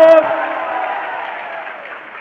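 A political rally crowd claps in a dense, steady roar that follows a brief voice at the start and carries on evenly, fading slightly toward the end.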